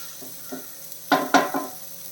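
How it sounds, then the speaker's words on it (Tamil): Tomatoes sautéing in a pan for a bottle gourd dish give a few quick stirring scrapes and soft sizzles, two louder bursts close together near the middle, with no talk. "தக்காளி இது கூட நல்லா வதங்கணும்"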